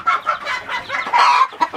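A wild hen gives a quick run of close, clear clucks in short bursts, alone without talk.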